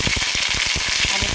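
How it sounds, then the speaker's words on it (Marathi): Ginger garlic paste sizzles in a couple of spoons of hot oil on a tava while a tempering is made for a rustic mutton curry, giving a steady, close, dense crackle with quick pops and no talk. "ह्या तव्यामध्ये आपण फोडणी तयार करणार आहे. तर त्यासाठी मी याच्यात 2 चमचे तेल टाकलेलं आहे आणि थोडंसं अद्रक लसूण पेस्ट टाकली."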